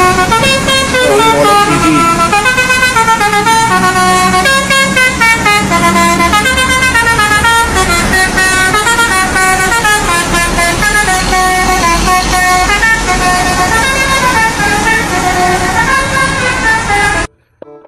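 An STC Draka bus on the Wonogiri route sounds its tolelet musical horn, a loud, continuous melodic tooting of shifting notes that plays for many seconds over road noise and then cuts off abruptly.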